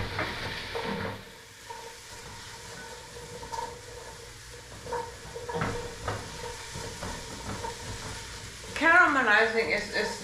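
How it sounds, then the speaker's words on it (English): Food caramelizing with fennel in a pan is stirred, giving a steady sizzle broken by soft scraping strokes, with a louder clatter of utensil against pan near the end. "I'm going to stir it a little bit."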